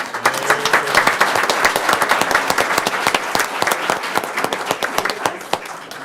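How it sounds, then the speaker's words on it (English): Applause at a board meeting from a room of people, a dense, steady burst of many hands clapping close by that continues without a break, with no voices over it. "All right, big round of applause for our"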